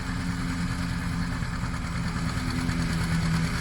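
Steady, droning tractor engine with a deep low rumble and a faint knocking edge, running continuously at a constant pace while feeding a chopper; the tractor is smoking heavily.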